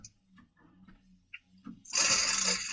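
A cheap sewing machine starts up after a few quiet clicks and knocks, then runs loudly and steadily for about a second near the end.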